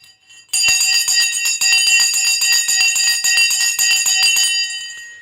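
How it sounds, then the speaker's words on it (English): A bell on a live stock market stream rings loudly in a rapid, continuous clattering trill for about four seconds, then fades out with a ringing tail. "Let's ring the bell."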